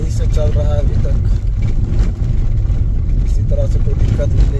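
A Mahindra XUV driving on a mountain road through Ladakh between Nubra Valley and Pangong Lake, its engine a loud, steady low rumble with road noise, while someone talks intermittently over it.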